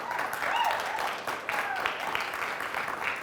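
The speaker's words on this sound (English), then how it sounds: "Let's have a round of applause for them." Audience applause for a quiz team in a televised school competition, a moderate burst of clapping with an announcer's voice carrying over it.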